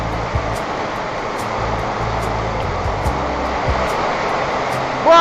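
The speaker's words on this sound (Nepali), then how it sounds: "यहाँ पानी हेर्नुहोस्, यसरी परिरहेछ पानी।" Heavy rain pours down around a storm-damaged house, a dense, steady hiss of falling water that holds at an even level throughout with no voices.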